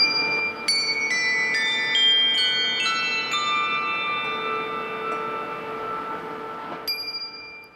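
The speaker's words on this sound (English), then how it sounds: "Bells were rang 488 times by the Bell Choir at Holy Trinity Episcopal Church" Handbells rung by a church bell choir at an Episcopal church, a sequence of bright ringing strikes with long overlapping sustained tones decaying together, fairly close and clear with no talking.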